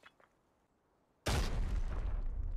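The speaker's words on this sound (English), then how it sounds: "M67 is an explosive grenade that explodes within a couple of seconds from throwing, dealing minimal damage" An M67 explosive grenade goes off in Arena Breakout: after a quiet lead-in with faint ticks, a sudden loud close blast erupts and rolls on as a dense, roaring tail.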